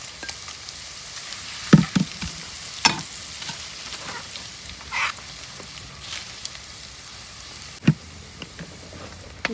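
Mustard seeds, garlic, curry leaves and dried chillies fry in hot oil outdoors, a soft continuous sizzle broken by sharp, scattered pops and crackles close by.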